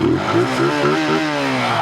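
An Aveta Marvel 150 motorcycle, a small five-speed bike, revs up and down in quick rising and falling pulls. The engine is loud and close, with no voices.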